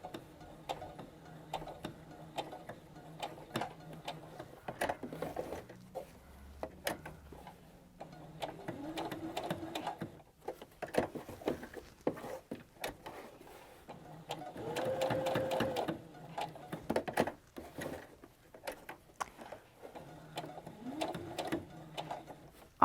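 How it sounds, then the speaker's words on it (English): A sewing machine stitches a small box seam on a grocery tote, its close, rapid mechanical chatter running in bursts of varying length separated by brief pauses, with no voices. "now we're just going to stitch a little box going right around here"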